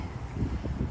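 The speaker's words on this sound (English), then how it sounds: "I am sorry about the wind today." Gusty wind buffets the microphone in low, rumbling bursts, a close blustery roar filling the short moment.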